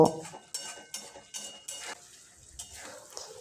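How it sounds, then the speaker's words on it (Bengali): Paneer being stirred and fried with spice paste in a pan, a spoon scraping and knocking against the metal in repeated strokes about every half second over a faint sizzle, close and quiet. "মশলার সঙ্গে পনিরটা আমি দু থেকে তিন মিনিটের মতো আবারও কষে নেব"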